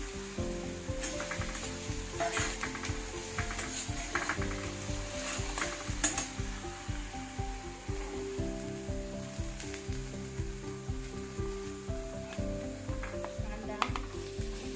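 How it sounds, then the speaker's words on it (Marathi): Green chillies sauté in a hot pan, giving a steady, soft sizzle with frequent light clicks and scrapes of a spoon stirring, fairly quiet and continuous throughout. "हिरवी मिरची छान अशी परतून घ्यायची आहे"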